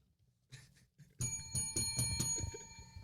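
A bright bell rings in a quick metallic flurry, loud and close, following a couple of soft thuds, with its tones lingering.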